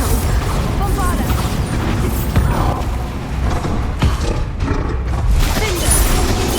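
Bombarda blasting spells in Hogwarts Legacy go off as booming, crackling impacts amid dense mechanical clatter and creaks, with a voice talking over the action.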